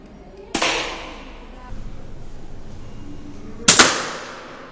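An airsoft gun fires at a target in two sharp, snapping shots about three seconds apart, each with a short ringing tail, over quiet background noise.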